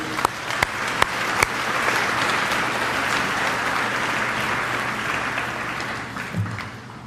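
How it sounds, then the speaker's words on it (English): Applause at a hall of fame and senior athletic banquet, a full room clapping steadily for several seconds after a few separate early claps, then thinning out near the end. "How about a big round of applause for Linda Rose?"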